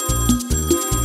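A telephone rings in loud repeated bursts with a bell-like tone, two rings in quick succession, close and clear, with no voices.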